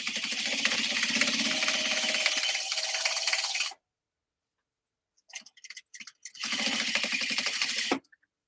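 A sewing machine top stitches a bag in two fast, steady runs, with a pause and a few short stitching bursts between them, loud and close.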